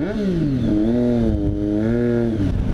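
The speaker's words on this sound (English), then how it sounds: "you're going to hear a lot of these rev bombs" A Triumph Street Triple motorcycle engine with an SC Project exhaust revs up and holds a rising, throaty pitch before dropping back, loud and close.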